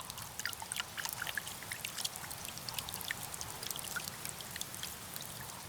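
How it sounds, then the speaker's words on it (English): Water drains through a small hole hidden in the seam of a carnivorous pitcher plant and into a flat channel, making a faint, steady trickle with tiny irregular drips throughout. "The seam down the pitcher hides a small hole that drains water into a flat"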